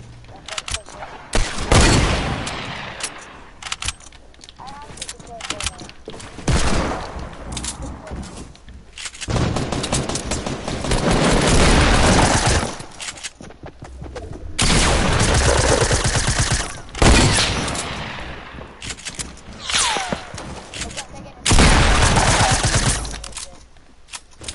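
Hunting rifle shots ring out in a shooting video game, loud repeated bursts of gunfire in several clusters with people talking over and between them.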